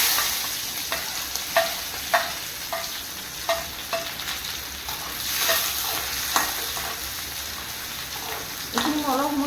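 Chopped onions fry in hot oil in a wok with five-spice seeds and dried red chillies, a dense close sizzle broken by repeated sharp scrapes and knocks of stirring.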